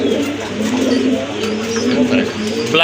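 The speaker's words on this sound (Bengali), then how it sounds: "ব্ল্যাকলেস শাটিন কবুতর" Blackless satin pigeons coo steadily in a low, continuous murmur, with several birds overlapping close by and a little chirping now and then.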